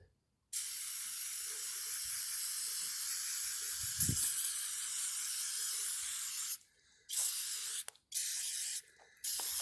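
A long, steady aerosol spray of cleaner on a 1958 AMC Rambler Super carburetor hisses close by for several seconds, then breaks into three shorter bursts with brief pauses between them.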